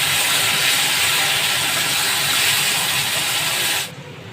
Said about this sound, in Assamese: তেলত ধুনীয়াকৈ ভাজি ল'ব।